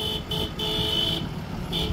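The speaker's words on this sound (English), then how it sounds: "I think you need a new horn." A car horn sounds in several short, thin bursts over steady street and traffic noise in Royal Oak, loud and close with brief gaps between the honks.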